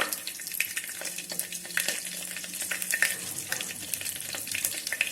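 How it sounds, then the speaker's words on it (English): Cumin seeds, mustard seeds and a green chili sizzle in hot oil inside an electric kettle, a dense, continuous crackle of spitting and popping heard up close with no talking. "so that the oil is properly hot, I'm going to add some cumin seeds, mustard seeds, then one green chili,"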